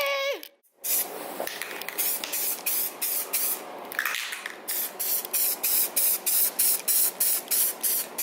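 Repeated short bursts of aerosol spray paint hiss close by while a Nissan VQ35DE throttle body is being coated, rhythmic on-off pulses with a longer continuous spray early on.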